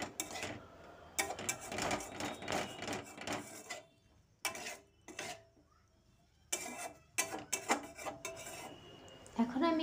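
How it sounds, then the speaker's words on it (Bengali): Fish curry with vegetables is stirred in a pan, giving quiet intermittent scraping of a utensil against metal in several short bursts separated by near-silent gaps, heard close up and alone. "আনাজগুলো যাতে ভালোভাবে মিশে যায় তার জন্য একটু নাড়াচাড়া করে"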